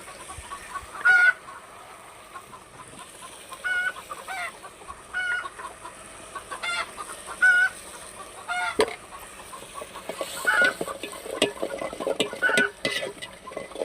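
Chickens cluck and call around a village kitchen, with repeated short squawks and honking-like calls at moderate distance over a steady background of stirring and household noise.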